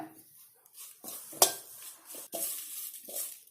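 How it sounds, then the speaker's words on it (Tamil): Curry leaves crackle and sizzle faintly while roasting in a hot pan with a few sharp scraping stirs and clinks of a utensil. "இந்த மாதிரி சலசலன்னு சவுண்டு கேட்குற வரைக்கும் வறுத்துக்கோங்க"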